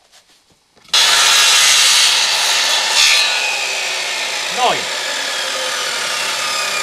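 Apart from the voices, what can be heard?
circular saw cutting a notch in wood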